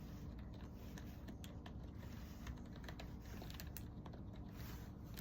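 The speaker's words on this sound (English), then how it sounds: "I just love the sound of the keys." Fingers type steadily on a light-up computer keyboard, producing a close, soft run of rapid key clacks over a low background hum.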